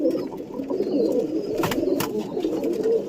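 Young pigeons raised at home coo steadily up close, a continuous burbling murmur with a couple of sharp clicks or taps in the middle.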